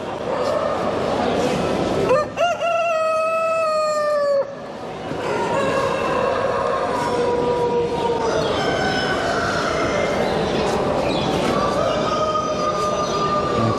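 Brahma chickens and roosters at a crowded poultry exhibition in Bucharest, with repeated crowing calls rising and falling over a dense, loud hall din and talking voices.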